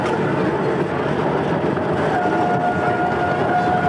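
Continuous low rumble of a train in Japan rolling on rails, heard from aboard, steady and enveloping, with a faint rising whine in the middle.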